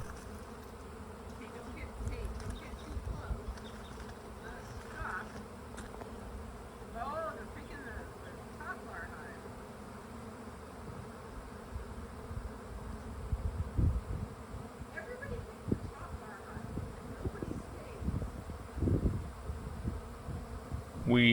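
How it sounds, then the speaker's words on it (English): A swarm of bees moving into an empty hive drones in a steady, dense buzz through an outdoor backyard setting, with louder passes as bees fly close and faint background activity underneath. "We noticed a loud buzzing sound, which is consistent with a lot of bees in the air."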